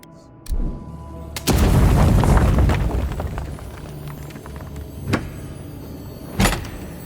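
Grenade explosions in the video game Avowed: a short thump, then a big booming blast with a long rumbling tail, followed later by two sharper, briefer bangs over a quiet background.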